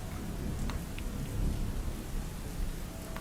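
Steady rain falls at an outdoor camp, with low rolling thunder rumbling underneath; a continuous, even wash of sound with no voices.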